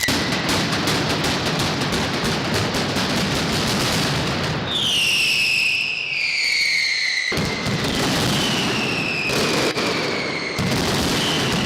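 A mascletà firecracker display in Valencia: a dense, continuous barrage of loud cracks and booms with sharp whistling rockets rising partway through, all close and overwhelming, with no talk.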